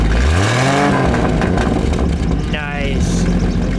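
A 1963 Ford Falcon Cayuse convertible engine revs up with a rising pitch, then settles back before a second, sharper rev, close by and loud, with people talking over it.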